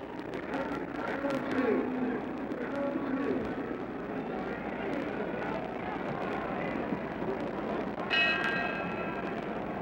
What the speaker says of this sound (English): We're getting ready for the bell for round 2.